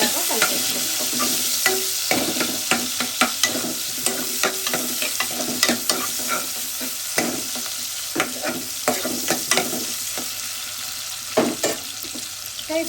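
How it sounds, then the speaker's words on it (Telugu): Onion and ivy gourd pieces sizzle in hot oil in a pan with a steady crackle. Repeated scraping stirs sound close by at moderate volume, and no one talks. "ఇప్పుడే మనం ఇందులో దొండకాయ ముక్కలు కూడా కొంచెం ఫ్రై చేసుకున్నాం."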